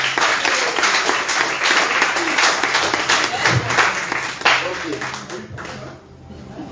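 A church congregation at a Sunday Christmas service claps and applauds in a dense, sustained burst while voices speak over it, then the clapping thins out and quiets near the end.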